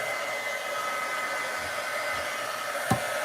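A hair dryer drying a Dollar Tree craft project, a steady close whirring blow with no pause, broken by one short knock near the end.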